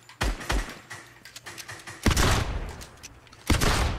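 A video game weapon, Magneto's gauntlets, sprays metal in a series of loud, sharp bursts that come in uneven clusters with short gaps between them. No one speaks.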